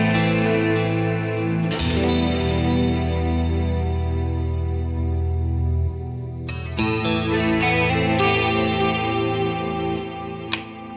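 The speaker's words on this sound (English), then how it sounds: "Or we can use the MicroPitch setup that we have." Electric guitar run through a MicroPitch setup on a Fractal Axe-FX III, sustained chords with a doubled, slightly detuned shimmer, a new strum around the middle and a sharp pick accent near the end, with no voices.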